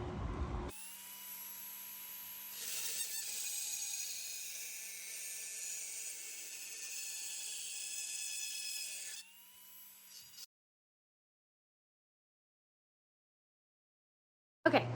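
A high-pitched rotary tool whines steadily for about ten seconds while carving the edges of a candle, its pitch dipping slightly near the end before it cuts off into silence.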